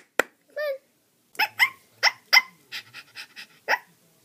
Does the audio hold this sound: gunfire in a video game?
no